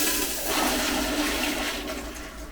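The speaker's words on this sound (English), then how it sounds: "And then the toilet flushes really good." A powerful flush from a hotel toilet at the Virgin Hotel and Casino in Las Vegas, a steady, loud, close rush of water that fills the whole clip without pause.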